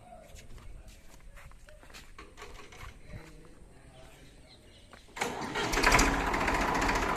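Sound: Massey Ferguson 1035 DI tractor engine starting

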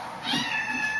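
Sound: cat meowing to get out

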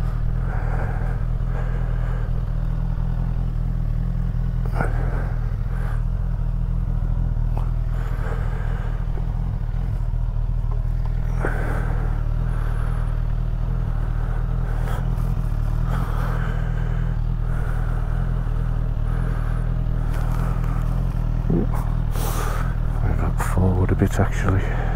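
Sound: Suzuki Katana 1000 motorcycle being maneuvered into parking spot

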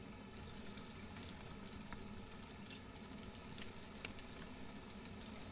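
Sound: frying eggplant and zucchini meatballs in oil

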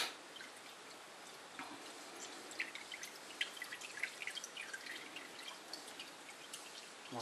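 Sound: motor oil draining from a 2011 Honda Civic into the pan

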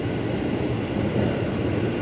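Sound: commuter train at Manggarai station platform

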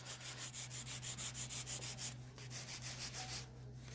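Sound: pink diamond nail drill bit filing a nail

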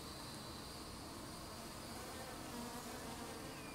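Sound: honey bees buzzing up close

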